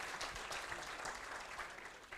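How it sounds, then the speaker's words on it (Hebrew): Audience applause at the Atlas Award ceremony, a steady wash of clapping from a crowd that holds at an even level for a couple of seconds, fairly distant and without voices over it. "מחיאות כפיים"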